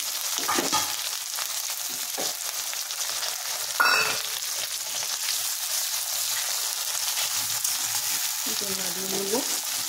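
Chopped onions, about 250 grams, sizzle steadily in hot oil for a country chicken curry, with a constant broadband hiss, a brief louder spatter near the middle and a faint voice-like sound near the end.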